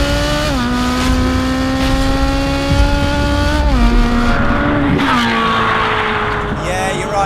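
Ferrari 458 Speciale with a naturally aspirated V8 revving hard while driving, loud and close, its note climbing through gears with sharp drops at shifts, the engine dominating throughout.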